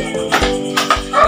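A dog barks and yips a few times in quick succession, close and loud, with some whimpering tones between the barks.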